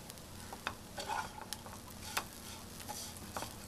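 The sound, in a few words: stirring frying garlic chicken noodles in pan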